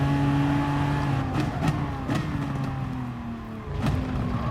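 Race car engine in GT Sport at the Suzuka circuit, revving steadily with sustained harmonic tones that shift pitch through gear changes, punctuated by a few short bursts, loud and continuous with no talk.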